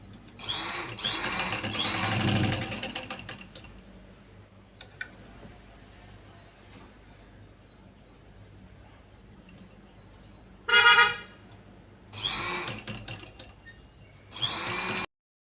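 A sewing machine stitches a Chinese collar in bursts of running, with a loud start, quieter stretches and short runs near the end, close to the microphone.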